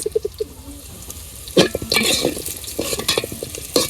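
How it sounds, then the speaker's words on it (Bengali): Onion fries in oil with cinnamon and cardamom in a village kitchen while a spoon stirs it, giving close, uneven scraping strokes over a soft sizzle that grows busier partway through. "দিয়ে দিলাম বাদামি কালার করে ভাজবে"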